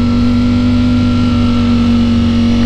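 A Ducati Streetfighter V4 S fitted with a full Akrapovic titanium exhaust holds a loud, steady engine drone with a strong sustained hum, close and continuous, with no rising rev sweep evident.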